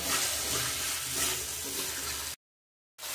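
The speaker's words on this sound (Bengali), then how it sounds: "ভালো করে বেশ কিছুক্ষণ কষাবো, যতক্ষণ না তেল থাকবে।" Spice paste and tomato for chicken curry sizzle and fry in hot oil while being stirred, a steady, loud, close crackle that cuts off abruptly and then briefly resumes.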